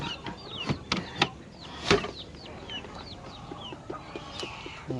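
Shamo gamecocks on a backyard farm clucking and calling repeatedly in short bursts, with several sharp louder calls among softer chatter, close by and without talk.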